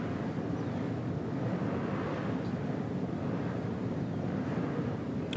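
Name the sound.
racing motorcycle engines growling at national championship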